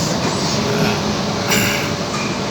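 A Sydney electric city train runs with a loud, steady rumble and hiss of motion, heard from inside or close by, with a brief swell of rushing noise partway through.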